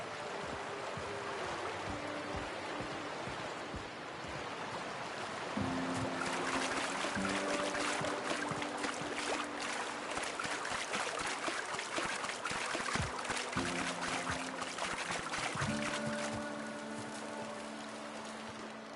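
A waterfall in Fallbrook from the video game The Outer Worlds 2, a soft, steady rush of falling water that swells louder partway through, with faint tonal game sounds over it.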